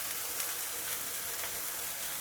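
Fish sizzles as it pan-fries in oil, a steady close hiss that stays even for a couple of seconds with no other sounds over it.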